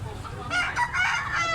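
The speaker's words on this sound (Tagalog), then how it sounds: "Medyo malaking manok." Clucking and crowing from a large chicken, a few loud close calls running together in the second half of the clip.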